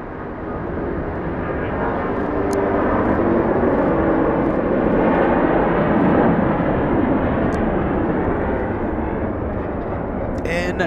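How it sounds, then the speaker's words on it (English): Asiana Airbus A380 taking off at close range, a deep roaring jet rumble that swells loud within a couple of seconds and holds as a powerful continuous roar. "Extreme close-up departure by a Super A380 in front of LA flights."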